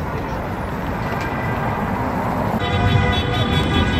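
Busy street traffic on the Champs-Élysées in Paris, with car horns sounding amid a dense roar of engines and road noise, growing slightly louder toward the end as people hang out of car windows.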